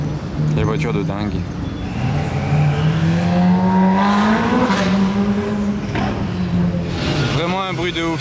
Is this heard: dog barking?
no